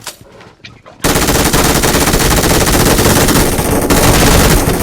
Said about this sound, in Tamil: இப்ப நீங்க அடிங்க, நாங்க ரீலோட் பண்ணிக்கிறோம்